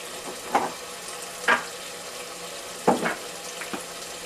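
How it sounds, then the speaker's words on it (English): Tomatoes and onion cook in a pan for Ghanaian jollof rice. A low steady sizzle runs underneath a few short scraping stirs spaced a second or so apart, with no talking. "I will let my tomatoes and onion cook for like 10 to 20 seconds."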